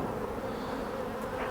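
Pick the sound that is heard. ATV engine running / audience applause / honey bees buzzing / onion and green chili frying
honey bees buzzing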